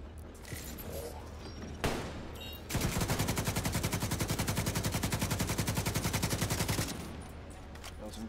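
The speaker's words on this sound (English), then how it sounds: "That was some good shots" Gunfire in the shooter game The Division 2: a few isolated shots, then a long, loud, steady rapid-fire automatic burst lasting about four seconds before fading back to scattered background noise.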